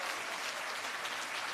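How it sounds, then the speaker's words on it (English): A round of applause for the teams at a public sector debate competition launch, a brief burst of steady clapping from a sizable audience, fairly distant and uniform. "Now, can you give all the teams a round of applause?"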